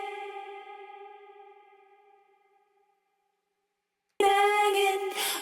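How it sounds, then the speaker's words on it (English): A sung female vocal note rings out and fades slowly through a long, shimmering, slightly metallic plate reverb tail, then a loud voiced phrase bursts in abruptly. "A plate reverb sounds a little bit metallic and a little bit washy"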